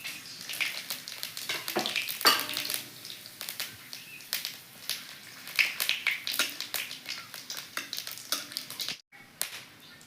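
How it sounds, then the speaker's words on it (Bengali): Cumin, bay leaf, cinnamon, cardamom and dry chilli frying in hot mustard oil in a kadai, a crackling sizzle of rapid sharp pops and spits that rise and fall, close and moderately loud. "কড়াইটা গরম হয়ে গেছে দিয়ে দিচ্ছি সরষের তেল জিরা তেজপাতা চিনি দালচিনি ইলাইচি আর শুকনো লঙ্কা"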